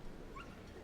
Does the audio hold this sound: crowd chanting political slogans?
no